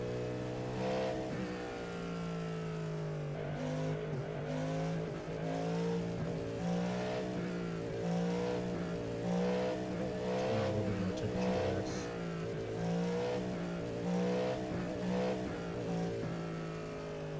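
Cadillac GTP prototype race car in iRacing, its engine roaring continuously at high revs with rhythmic rises and dips through corners and shifts, loud and close, with no talk.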